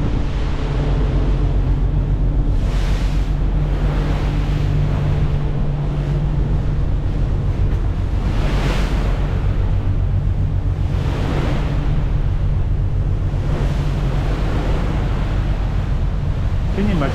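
Gale-force wind and a choppy sea aboard the Malta to Gozo ferry: a constant roar of wind buffeting the microphone over rushing surf, with several louder gusts swelling and fading.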